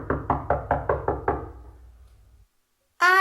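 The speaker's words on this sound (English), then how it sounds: "the very next week he had knocked on the Onceler's office door." Six evenly spaced, solid knocks sound on an office door on stage in a primary school play, fading into a short silence before a voice starts speaking.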